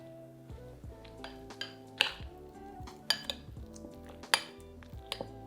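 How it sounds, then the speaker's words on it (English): Crème fraîche and minced garlic stirred in a bowl with a spoon, making quiet scraping, irregular clinks and a few sharper taps against the bowl, heard close up with no voices. "give that a good stir together so it's all combined"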